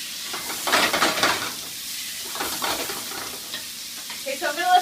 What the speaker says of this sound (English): I'm going to let this simmer a little bit